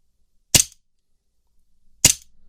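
An Umarex Colt M45 CQBP air pistol with blowback fires two sharp, loud cracks about a second and a half apart, each with a brief mechanical snap as the slide cycles.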